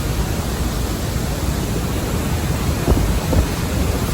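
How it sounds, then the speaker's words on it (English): A large waterfall in Vietnam roars as a loud, steady wash of broadband rushing water from close by in the splash zone, with a couple of slightly stronger surges near the end. "14th best waterfall in the world, Craig."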